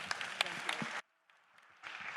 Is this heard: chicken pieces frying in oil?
no